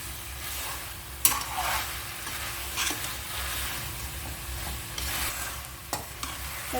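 Mixed vegetables for a vegetable biryani are sautéed and stirred in an oiled pan, making a steady close sizzle with repeated scraping sweeps and occasional sharp utensil knocks, and no voices.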